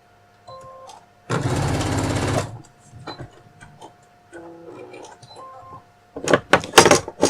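A sewing machine runs one sustained burst of stitching along a 1 cm seam on bias binding, preceded and followed by quieter handling clicks and short mechanical ticks.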